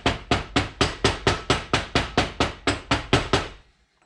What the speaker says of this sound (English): Note I'm using a rubber mallet.